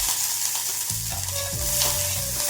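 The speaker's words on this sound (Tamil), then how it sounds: "இப்போ செட்டில் கொஞ்சம் ஆயில் ஊற்றி சின்ன வெங்காயம்," Small shallots frying in oil in a pan, a close, dense sizzle with scraping stirs and clinks of a utensil throughout, no voices.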